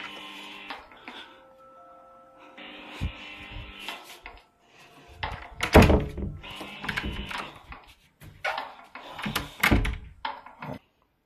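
Doors in a horror video game swing and shut with a series of sharp thunks and slams, spaced irregularly among quieter creaks and game sounds, the heaviest impacts landing near the middle and end.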